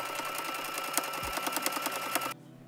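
A sewing machine runs a straight stitch in a quick, even mechanical patter for about two seconds, close and clear, then stops suddenly.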